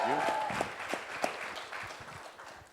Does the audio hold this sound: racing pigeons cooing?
no